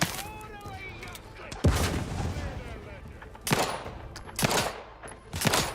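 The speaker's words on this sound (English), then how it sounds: "Grenade!" Grenade blasts and gunfire in the video game The Outer Worlds 2, several sharp explosive bursts near the start and toward the end, over a busy bed of combat noise and tonal game effects.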